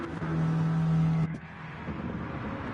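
GT4 race cars, including a McLaren, in a racing video game at the High Speed Ring, with a steady engine drone and a sustained tone that cuts off abruptly, leaving quieter engine noise.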